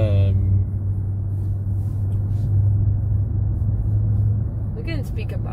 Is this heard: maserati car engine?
yes